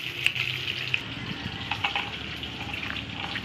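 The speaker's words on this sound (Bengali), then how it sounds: "আমি একটা একটা করে পটলটা চারপাশে ভেজে নিচ্ছি।" Pointed gourds (potol) fry in a pan one by one, giving a steady crackling sizzle with sporadic sharper pops and faint utensil clicks, close by and without speech.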